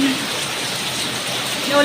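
Heavy rain pours down in a dense, continuous hiss, loud and close.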